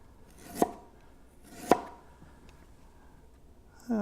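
A knife cuts through fresh ginger on a cutting board, two crisp separate chops about a second apart in a quiet kitchen, followed by a brief louder knock at the end.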